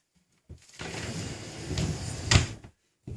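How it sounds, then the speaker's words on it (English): A large pull-out drawer under a handmade bed in a tiny house slides open with a rolling, rumbling scrape for about two seconds, ending in a soft knock. "we made the bed with big pull-out drawers"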